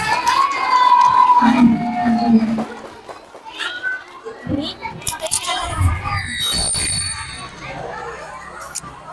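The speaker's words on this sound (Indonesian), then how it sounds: "Tepuk tangan." Schoolchildren in a classroom clap and cheer for a classmate at a speech practice session, a noisy mix of young voices, shouts and scattered claps, close and lively, with children talking throughout.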